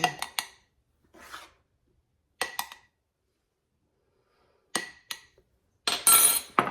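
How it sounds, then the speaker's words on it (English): A utensil mixes flour into sourdough starter in a jar and scrapes its sides, giving short, separate clinks and scrapes in brief clusters with quiet gaps between, close and fairly crisp. "So I just mix it in, scrape the sides."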